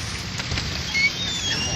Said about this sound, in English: Everybody's car is getting rained on.